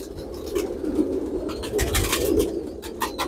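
Soft, continuous cooing of purebred Kammanger pigeons, a low warbling murmur repeating steadily with no voices present.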